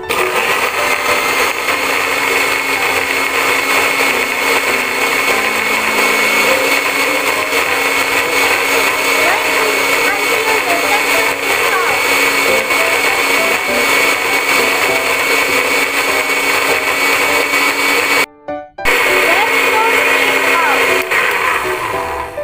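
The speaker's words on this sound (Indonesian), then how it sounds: "Turn on the blender." A blender whirs steadily as it purées aloe vera leaves without water, a loud continuous motor drone holding for about eighteen seconds, briefly cutting out, then resuming.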